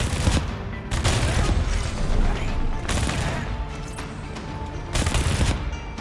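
Automated turrets in the video game Arknights Endfield fire loud, dense bursts of rapid gunfire, pausing briefly between volleys, close and continuous for several seconds.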